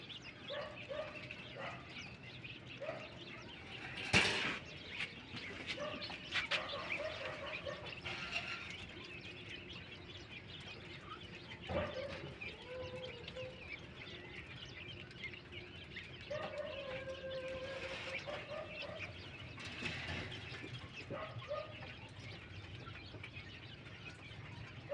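King quails on a small farm, scattered clucks and short calls with faint mechanical rattling, fairly quiet and close, with no talk.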